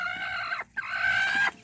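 A hen clucks and squawks in agitated bursts, close by, with a brief pause between calls.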